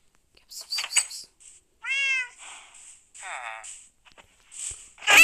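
Cats meow repeatedly in Minecraft, several short close mews scattered across the stretch, mixed with a person talking and calling to them.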